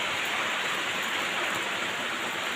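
Heavy rain pours down suddenly at a house during hot weather, a dense, steady broadband hiss of drops on surfaces that holds at an even, loud level throughout with no voices.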